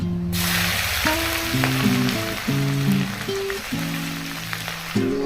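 Chopped ginger and moong dal fry in hot oil, giving a steady close sizzle that runs the whole time beneath a layer of tonal background music.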